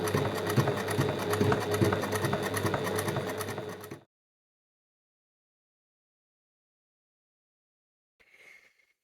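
A sewing machine stitches through a sweater being upcycled, a loud continuous mechanical whirring and rapid needle chatter for about four seconds, then it stops abruptly, followed by silence and a brief faint rustle.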